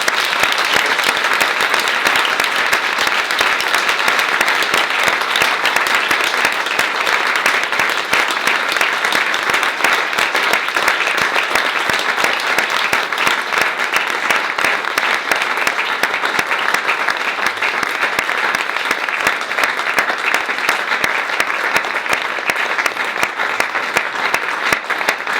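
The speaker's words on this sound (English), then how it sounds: "So I thought we should just give them a great round of applause." Wedding guests at a reception give a long, sustained round of applause, dense and even clapping from a sizable crowd that holds steady for about 25 seconds, with no talk over it.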